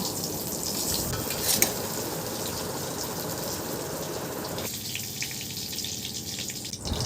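Long-cut eggplant slices fry in hot oil with a close, steady sizzle and crackle, broken by stirring scrapes and an occasional metal clink; the frying hiss softens a little in the second half, with no talking throughout.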